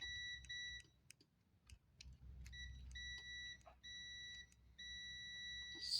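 Multimeter continuity beeps while testing a circuit on a 1994 Polaris 250 Trail Boss ATV, three short-to-longer steady tones repeating in a series, clear over a low background hum.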